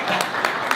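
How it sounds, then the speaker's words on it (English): Audience clapping at a business conference talk in Dubai, a short burst of steady, dense applause from a hall crowd with a few louder claps standing out. "Is that why you're clapping?"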